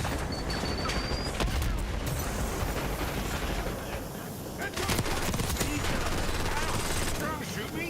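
Dense, rapid gunfire from a team deathmatch in Call of Duty Black Ops 6, sustained bursts and overlapping shots filling the whole stretch at high level with scattered game effects behind.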